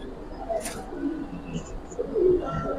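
Giribaz pigeons cooing in a loft, soft low throaty coos repeating under a busy background murmur, close but faint, with a brief higher chirp.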